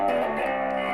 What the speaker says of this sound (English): distortion that I can turn on off with by either here or by a foot switch